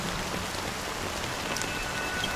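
Steady rain falls in the video game Honkai: Star Rail, a dense, even patter of drops continuing throughout without voices.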